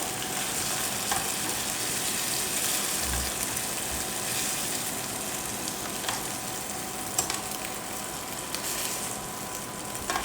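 Pork tenderloin cooking in a pot, stirred gently, gives a steady close sizzle and frying crackle with soft scraping and bubbling throughout, with no talk over it.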